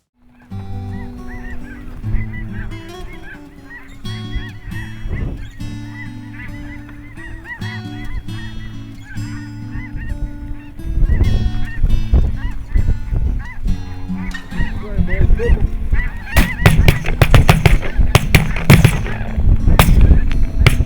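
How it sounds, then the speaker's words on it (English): Snow geese honk in a loud, dense chorus over decoys during a hunt, many overlapping calls building and growing louder through the second half, with brief sharp pops scattered in. "hunting snow geese over decoys and actually have them decoy and finish"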